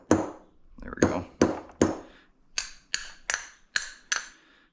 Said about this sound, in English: Don't tap it very hard. I really didn't even want to do it with a metal hammer